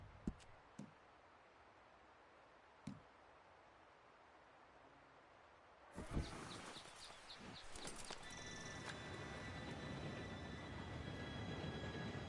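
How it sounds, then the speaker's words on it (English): A train approaching in Red Dead Redemption: a few faint clicks over quiet ambience, then a sudden loud rumble of rolling wagons with high metallic wheel squeal that grows and fills the second half. "Train should be here any minute now"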